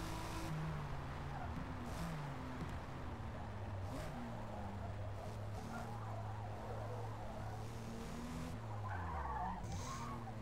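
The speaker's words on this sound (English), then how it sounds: "Ooh, bit of a lock up there." A Subaru BRZ race car in the Forza Motorsport video game locks up its tires, a skidding squeal over a steady, droning engine note from other cars running nearby.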